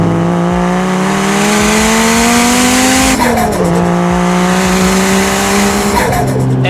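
Modified Toyota Chaser JZX100 Tourer V revving loud and close, its engine note rising steadily, dropping at a gear change and climbing again, with a brief tire chirp near the end.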